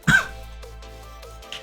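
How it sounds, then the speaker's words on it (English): A single sharp, close cough from a man getting over a throat problem bursts out at the start, then fades into a low steady background hum. "man, I can't stop coughing"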